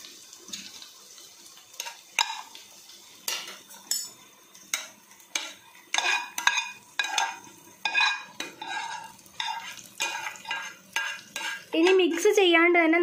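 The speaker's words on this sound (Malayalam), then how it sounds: "ഇനി ഇതിലേക്ക് നമുക്ക് ചിക്കൻ ഫ്രൈ ചെയ്തത് ചേർത്ത് കൊടുക്കാം." Fried chicken and egg being added to gravy in a pan for homemade fried rice, with repeated clinks of a spoon or spatula against the pan and stirring scrapes in an uneven rhythm, close and fairly loud, and no talking.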